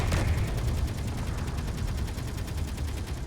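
Missile strike against a space station in Space Engineers, heard as a sharp initial blast followed by a sustained, rapidly pulsing rumble of explosions that stays loud and rough for several seconds.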